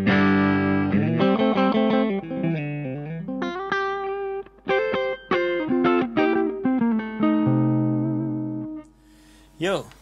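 An electric guitar, a Stratocaster through an overdrive pedal into an OTS Mini 20 head, plays a melodic phrase with a driven, gritty distorted tone, notes sustaining and bending, ending with a brief scratchy noise.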